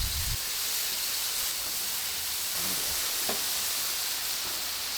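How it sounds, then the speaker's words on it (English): Bacon sizzles on a hot griddle, a steady bright hiss throughout with faint pops, moderately loud and close, no talk. "We can finally get to the griddle. Let's throw some bacon down."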